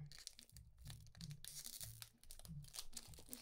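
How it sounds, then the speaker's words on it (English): A Pokémon Scarlet & Violet Paradox Rift booster pack is torn open by hand, with quiet, close crinkling foil and several short ripping tears over a few seconds. "I'm gonna open this carefully. Rip it open."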